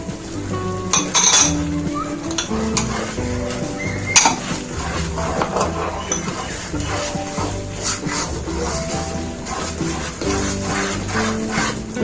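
A spoon scrapes and clinks steadily against a pan as semolina halwa is stirred over a very low flame, the light metallic taps running continuously under loud background music.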